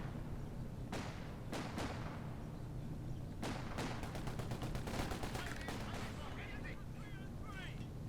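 A Bren light machine gun fires in Company of Heroes 2, with short bursts of sharp cracks that repeat and quicken toward the end. It sounds fairly faint and distant over a low battle rumble.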